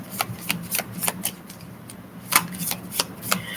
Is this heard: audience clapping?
no